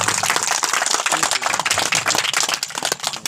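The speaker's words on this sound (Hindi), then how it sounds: "एक बार तालियां खुद के लिए बजाओ।" An audience clapping for itself at a gathering, a dense, lively round of applause from many hands, close and loud, lasting the whole stretch.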